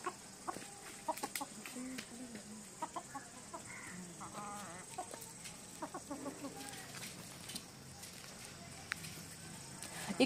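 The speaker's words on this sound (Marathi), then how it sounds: "इकडे आजूबाजूला कोंबड्या सुद्धा आहेत." Chickens cluck and call around a quiet village in Satara district, close and faint, in a scattered series of short bursts with some light background noise.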